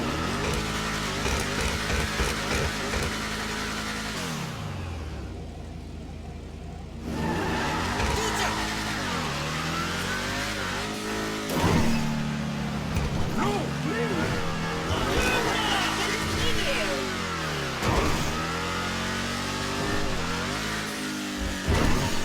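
A Ruiner ZZ8 muscle car in GTA 5 rumbles and revs repeatedly, its engine note rising and falling through gear shifts at fairly close range, with a short lull partway through before the throttle picks back up.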